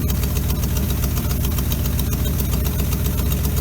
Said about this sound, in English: Even idling now.